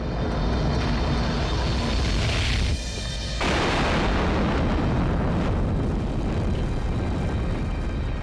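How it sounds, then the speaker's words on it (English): A rocket engine roars loudly with broadband thunder during a combustion instability. The roar cuts out briefly near the middle, then returns just as loud and steady, with no voices. "The smallest upset to this smooth mix will lead to a rocket designer's worst nightmare."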